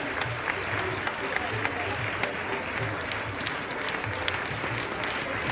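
An audience at a felicitation ceremony honouring Olympic medal winners and participants applauds in a steady, dense wash of clapping that holds at an even level throughout, with a faint murmur of crowd voices underneath.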